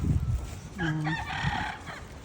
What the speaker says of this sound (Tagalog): May mga manok sila sa loob ng temple